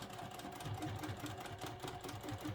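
A sewing machine back stitches the end of a seam on a boxy fabric pouch, giving a steady, close mechanical whirr with a rhythmic needle patter that runs without a break.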